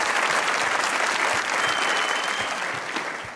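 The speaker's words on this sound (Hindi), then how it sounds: "तालियां बजाए भाई" An audience breaks into steady, dense applause, a full wash of many hands clapping that holds throughout and eases slightly toward the end.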